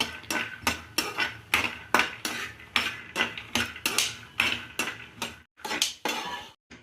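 Peanuts roasting in a dry pan, stirred with a metal spoon in a quick regular rhythm of sharp scraping clicks and rattles, close up, with no talking.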